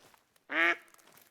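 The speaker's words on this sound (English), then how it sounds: "No, scared all the ducks" A single burst of duck quacking, about a third of a second long, rises loud and close in theHunter: Call of the Wild, with faint game ambience before and after.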